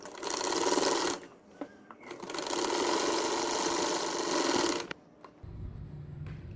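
Sewing machine stitching the waistband of a baby boy's salwar, running in two long loud bursts with a brief pause between and a quieter stretch at the end.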